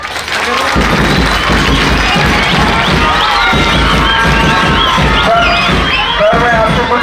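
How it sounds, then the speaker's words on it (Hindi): A loud crowd at a school event claps and cheers for a municipal team, dense clapping mixed with children's shouts and thuds, with voices calling out over it. "सबसे पहले उनके लिए तालियां"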